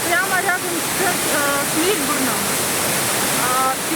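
Stevenson Falls, a waterfall near Marysville in Victoria, Australia, pours with a steady, close broadband roar of falling water that never lets up, while people talk over it.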